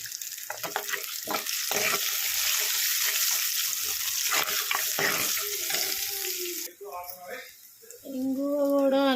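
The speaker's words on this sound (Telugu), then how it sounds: "ఇంగువ కూడా అన్నీ వేగినాయి" Cumin and asafoetida fry in oil, giving a bright, steady sizzle up close with stirring, then quieter crackles as a person starts talking near the end.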